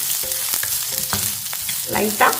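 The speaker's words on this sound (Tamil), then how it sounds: "இதை கொஞ்சம் லைட்டாக வதக்கிக்கிடுவோம்." Frying shallots sizzle in a hot pan with intermittent stirring clatter and scrapes, close and steady, with no voices.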